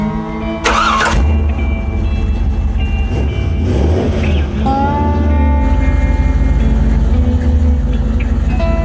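A 1969 Plymouth Roadrunner restomod fires up and drives off, a loud engine start burst followed by a deep, steady rumble and rising revs as it accelerates, close and dominant throughout.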